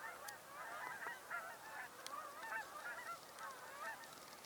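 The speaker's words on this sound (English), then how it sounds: "We're hearing Canada geese" Canada geese honk at a wildlife refuge, a continuous overlapping chorus of nasal calls from a flock at moderate distance, steady and fairly faint, with no voices.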